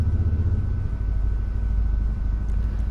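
A truck's engine in GTA V gives a steady, low rumbling drone that holds throughout with slight fluctuations, close and fairly loud, with no speech over it.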